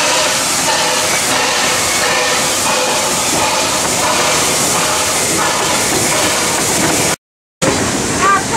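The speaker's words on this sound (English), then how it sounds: "There's another steam train coming through." A steam train rolls through a busy railway station near Emerald Lakes, a loud continuous hiss and rumble holding steady before a brief break and a softer tail.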